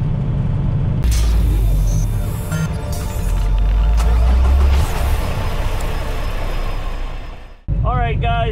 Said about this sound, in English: Jake brake, Jake brake, Jake brake, Jake brake.